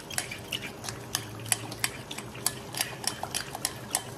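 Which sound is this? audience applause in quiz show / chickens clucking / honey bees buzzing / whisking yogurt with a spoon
whisking yogurt with a spoon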